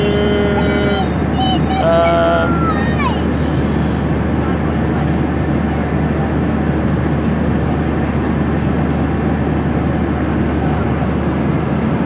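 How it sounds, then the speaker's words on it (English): Steady, broad airplane cabin roar during a flight to Melbourne, a loud constant low drone filling the whole clip, with a brief tonal chime or electronic sound near the start. "we are on a plane, Zadie."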